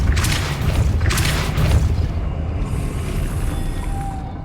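Depulso spell cast in a Harry Potter video game: a loud, dense whooshing blast with two bright bursts early on, then a fading shimmering tail over a constant low rumble.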